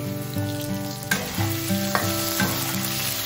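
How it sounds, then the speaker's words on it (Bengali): Diced potatoes go into hot mustard oil with bay leaf, dried chilli and whole cumin, giving a continuous dense sizzle over a low humming hob tone, punctuated by a few sharp spatula scrapes; no talking. "মশলাটা একটু ভাজা হতেই এবার আলুগুলো কেটে রেখেছি ডুমো ডুমো করে অ্যাড করে দিচ্ছি"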